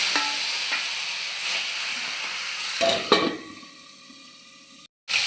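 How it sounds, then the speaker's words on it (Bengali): Rita fish frying in hot mustard oil makes a steady sizzling hiss with scattered pops and spatters. The sizzle quietens partway through, and a short silence near the end briefly cuts it off. "সর্ষের তেল গরম করে রিঠা মাছ দিয়ে দেব"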